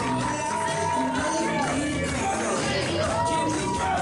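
A wrestling crowd at a live Test of Strength show cheers for the Magic Man, with steady loud babble and voices from the audience carrying throughout.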